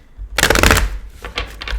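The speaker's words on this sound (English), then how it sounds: "Let me shuffle them." Tarot cards being shuffled by hand, a dense papery riffle lasting about half a second, then a few softer flicks and taps close by.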